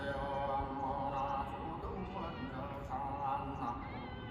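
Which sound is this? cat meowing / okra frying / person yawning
cat meowing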